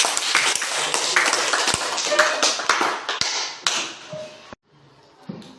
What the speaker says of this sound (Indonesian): kita beri tepuk tangan dulu untuk kelompok 1